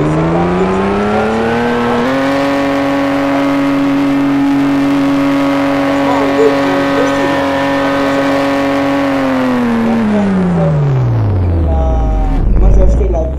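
Lamborghini Aventador engine in a Roblox driving game holds a loud, steady high-pitched drone, then winds down sharply in pitch near the end, followed by a brief thump.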